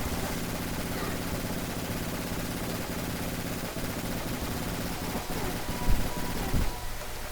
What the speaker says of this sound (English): This might be a good time for the assault rifle